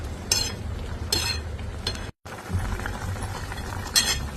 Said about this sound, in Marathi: घालून ढवळून घ्या.